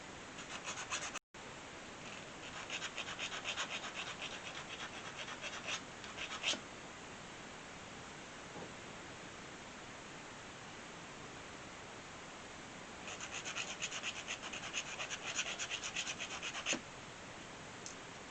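Soft, faint scratching and rubbing from a file or abrasive cleaning up small etched metal parts for a model iron-bodied wagon, coming in two long bursts with a quiet stretch between.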